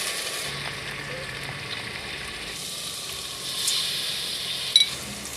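Pigeon peas, potatoes and brinjal frying in a pan give a steady close sizzle with a brief burst of hissing and a couple of sharp clinks toward the end.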